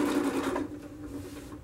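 A sewing machine stitching fabric runs close by with a rapid, steady mechanical whir, louder at first and then easing to a lower hum.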